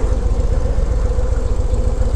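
Low rider motorcycle engine while riding, a loud steady low rumble that stays close and even throughout.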